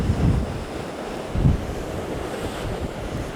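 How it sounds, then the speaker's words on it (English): Small waterfall in Iceland pours with a steady broadband rush of flowing water, buffeted by gusts of wind noise on the microphone, with a couple of louder low surges; no voices. "this is one of the smaller waterfalls here at Dinyandi"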